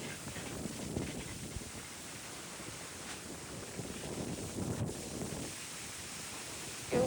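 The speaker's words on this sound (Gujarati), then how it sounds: "એકવાર પવન જોવો કેવો છે." Wind blowing outdoors in a village, a faint continuous rushing buffet across the microphone with low rumbling gusts and a small thump at the end.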